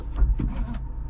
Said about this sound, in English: when you put it into reverse, the Volkswagen symbol actually pops out because that's where they hide the camera